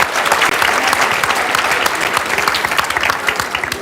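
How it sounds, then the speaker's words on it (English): Loud, dense applause from an audience at a European climate action event, sustained clapping close to the microphone with no pauses, dipping slightly toward the end. "So a big round of applause for yourself."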